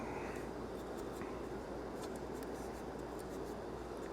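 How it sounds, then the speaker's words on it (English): Tape being run across and folded over the fork tube of a 1994 Harley-Davidson Softail during a fork seal replacement, heard as a steady, close, dry rubbing and scratching hiss with faint crinkles and no talking. "I will run some tape up across the top, and then I'll fold the tape in"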